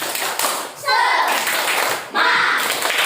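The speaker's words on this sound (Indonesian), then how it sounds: "tepuk semangat" Schoolchildren in a classroom doing a rhythmic spirit clap, quick bursts of patterned hand claps in short groups separated by brief pauses, close and fairly loud.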